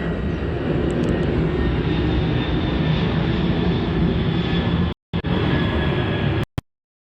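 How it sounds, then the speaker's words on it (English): An airplane flying overhead makes a loud, steady broadband roar that holds for about five seconds, then breaks off abruptly and returns briefly before a final cutoff. No one speaks. "That's just another plane flying over it"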